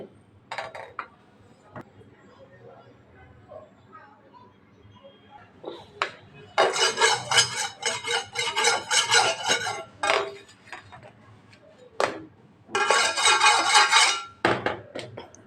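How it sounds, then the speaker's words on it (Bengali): A dirty boti blade is rubbed hard to sharpen and clean it, giving bursts of harsh gritty metallic scraping separated by quieter gaps with small clinks. A few faint voice-like sounds come in between the bursts. "আমি যত বেশি ঘষবো তত বেশি ধার হবে।"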